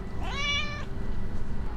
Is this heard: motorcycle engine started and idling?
no